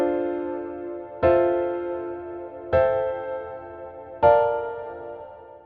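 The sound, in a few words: flat seventh chord progression in FL Studio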